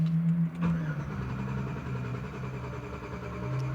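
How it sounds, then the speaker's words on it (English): A GMC Sierra with a faulty fuel pressure regulator cranks briefly, then its engine catches and settles into a steady, close idle hum with no talking. "There's that long crank and finally cranked over."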